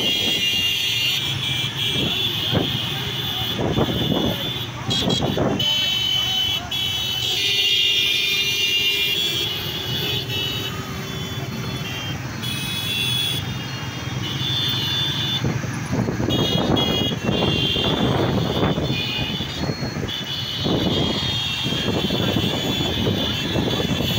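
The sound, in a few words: large motorcycle rally engines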